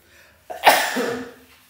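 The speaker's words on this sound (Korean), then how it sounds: "기침이 나오네" A single sharp, explosive cough close to the mic, trailing off into a breathy rasp.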